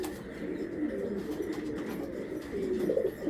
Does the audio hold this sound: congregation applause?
no